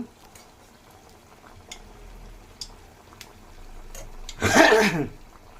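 Bread vada, made from soaked bread, dropped into hot oil: a quiet kitchen with faint clicks, then a sudden loud burst of bubbling sizzle near the end as the piece hits the oil.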